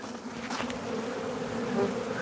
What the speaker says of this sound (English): That's just a regular bee.